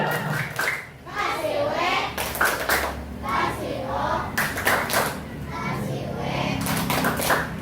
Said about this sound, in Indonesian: tepuk tangan buat kelompok mandiri